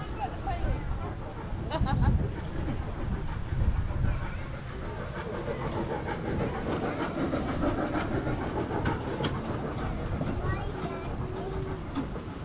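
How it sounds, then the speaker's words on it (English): A train rolls past at a waterfront shopping harbour in Portsmouth, a steady rumbling clatter of wheels on rails heard from nearby, with a murmur of people's voices in the background. "Oh look, here's the train."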